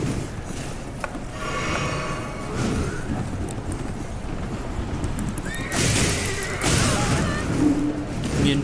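A horse in Elden Ring neighs, with a bright whinny rising over steady hoof clip-clops and rumbling game ambience, plus a second fainter call near the end.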